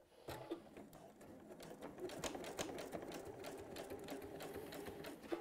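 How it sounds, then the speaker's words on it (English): A sewing machine runs close by while top stitching fabric, its rapid needle clatter steady and quiet with no talk. "So let's pop this under the sewing machine here. And then let's top stitch down."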